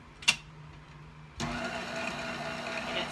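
A stand mixer starts whipping heavy cream for homemade butter at a medium speed. A short click comes first, then a steady mid-pitched motor whir runs to the end.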